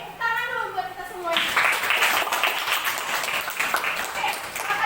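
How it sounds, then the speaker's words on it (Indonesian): Students in an Indonesian classroom clap together in a mathematics lesson, a dense burst of applause starting about a second in and continuing steadily, with a teacher's voice heard briefly at the start. "Oke, tepuk tangan dulu buat kita semua."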